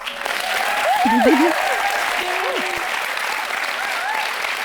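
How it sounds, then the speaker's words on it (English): A live podcast audience applauds, steady dense clapping with some cheering voices and whoops over it, loud and sustained throughout. "would you be the dearest audience in the world and just do a huge round of applause?"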